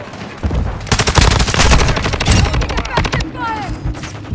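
Rapid automatic gunfire in a Call of Duty video game: a dense, loud stream of shots firing continuously for several seconds, with a voice speaking over it.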